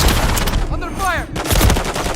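Video game gunfire rattles in dense bursts through a noisy firefight, loud and continuous apart from a brief dip partway through.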